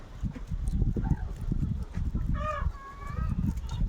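A country chicken gives a short, fairly near squawking call partway through, among ongoing rustling, scuffing and knocking noises, with no clear speech.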